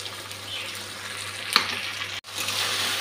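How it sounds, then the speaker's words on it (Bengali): Poppy seed paste mixed with ginger and green chilli paste fries in a pan, giving a close, steady sizzle. A single scrape of stirring is heard partway through, and the sound cuts out for a moment before the sizzle resumes. "পোস্ত বাটাটা ভাজা হয়ে এসছে"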